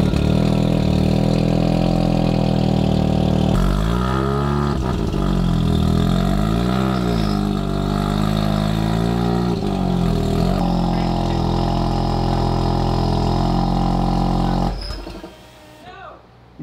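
A rotary-engined Corvette idles loudly close by while reversing onto a dyno, with its revs rising and dipping throughout. Voices talk over the engine, and it drops away near the end.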